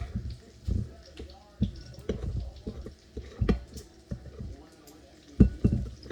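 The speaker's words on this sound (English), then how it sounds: "Pour a little hot water in, mix." Hot water is poured into dry meal and stirred into a paste, giving short wet splashes and soft, irregular mixing knocks that sit close to the listener, with low quiet sounds between them.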